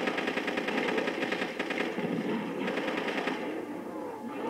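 Rapid automatic gunfire from a Call of Duty: World at War Zombies match, a steady loud stream of bursts running throughout with no pause.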